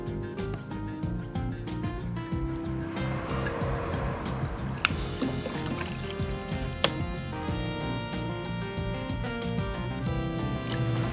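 Hot water pours steadily into an ultrasonic cleaner tank, a close, continuous gurgling fill with a few small drips and splashes.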